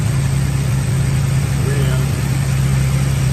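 A muscle car engine with a new carburetor idles with a steady, deep, throbbing rumble, close and continuous throughout.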